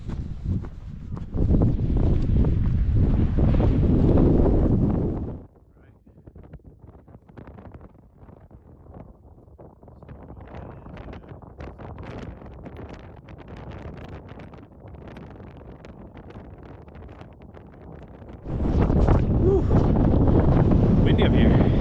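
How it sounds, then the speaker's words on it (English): Strong wind at Keys View overlook in Joshua Tree National Park buffets the microphone in loud roaring gusts, easing into a quieter rustle for a while before blasting loudly again. "Windy up here."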